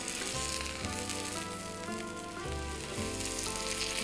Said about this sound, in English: that steak sounds like it is ready to turn over